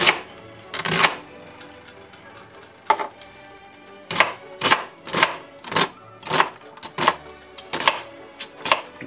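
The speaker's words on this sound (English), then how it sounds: "we're just gonna get this onion chopped up" A knife chopping an onion on a cutting board for chili, with bursts of quick close knocks, first a few isolated strikes, then a steady run of rhythmic chops after a brief pause.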